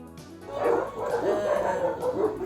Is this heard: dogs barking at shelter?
yes